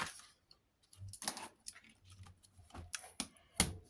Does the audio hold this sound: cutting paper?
yes